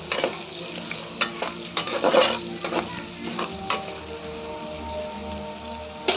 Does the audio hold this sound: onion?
yes